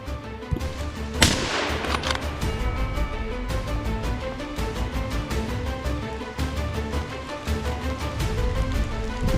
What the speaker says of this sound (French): Une nouvelle fois, je tire ce chevreuil, je suis clairement sûr de ma balle